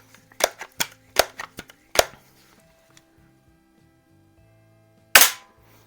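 Sharp BB shots from a pump air gun punching through both sides of a tin can: a rapid cluster of crisp cracks, a pause, then one final loud crack, close and with no talking.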